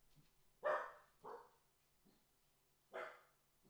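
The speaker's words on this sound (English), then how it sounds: "You hear Max trying to make a bark." A dog gives three short, sharp barks, the first two close together and the third after a pause, fairly quiet against a faint background.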